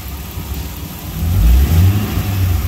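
An LS1-swapped C4 Corvette revs through its exhaust, a deep rumbling idle swelling into a louder, throaty blip midway and holding raised, close and alone.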